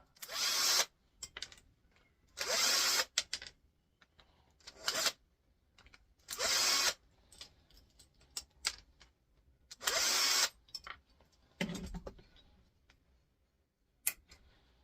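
Screws are backed out of a car battery charger being scrapped with a power driver, giving repeated short whirring bursts at irregular intervals, close up, with clicks and handling noise between them and no talk.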